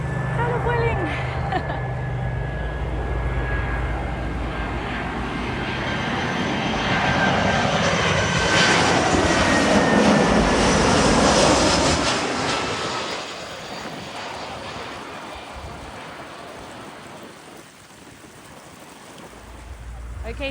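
A Vueling airliner passes overhead, its jet roar building steadily to a loud peak and then easing away over a windy outdoor plane-spotting spot near tall grass.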